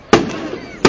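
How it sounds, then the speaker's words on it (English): Fourth of July fireworks over West Allis, Wisconsin: two sharp, loud booms about three quarters of a second apart, the first trailing off into a low rumble before the second hits. "That was just a flash and a boom"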